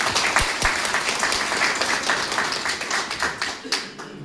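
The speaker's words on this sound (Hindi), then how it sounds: "हमारे राजेंद्र बाबू, उनके लिए एक जोरदार ताली बजाएं।" Audience at a retirement farewell event claps loudly in a dense, sustained burst of applause lasting several seconds, with a few sharper individual claps standing out and faint voices mixed in before it thins at the end.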